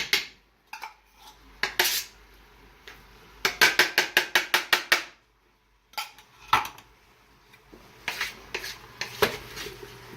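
Metal spoon clinking and scraping against a pot while stirring rustic beef stew with beef stock, a run of quick rhythmic clacks followed by scattered clatters, close and fairly quiet.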